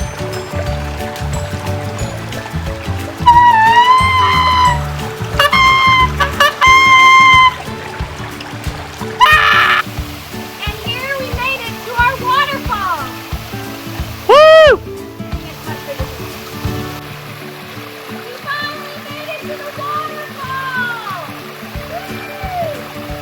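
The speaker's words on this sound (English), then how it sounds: "We finally made it to the waterfall!" A hidden waterfall deep in Kentucky woods near Nicholasville rushes steadily in the background, while people talk and call out over the constant flow of water.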